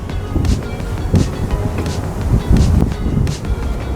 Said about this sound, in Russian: Что-то такой ветер прям разыгрался.